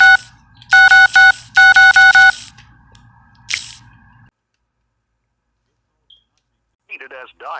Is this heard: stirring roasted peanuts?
no